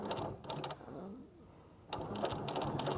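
A sewing machine stitches pillow fabric in two runs of rapid, even mechanical clatter, close by, separated by a quieter pause.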